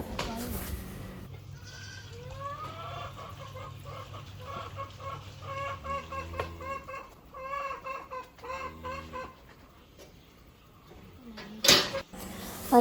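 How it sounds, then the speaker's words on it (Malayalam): Domestic ducks and chickens at feeding time on a small farm give repeated clucking calls in uneven bursts, fairly close, over a quiet background. "നമ്മുടെ താറാവും കോഴിയൊക്കെ താഴെ വന്നു."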